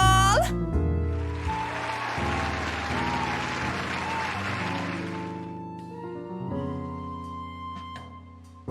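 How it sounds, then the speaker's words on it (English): Crowd applause at a wedding singalong in the video game The Letter, a sustained wash of clapping over background music that swells, holds for several seconds and then fades out. "A round of applause!"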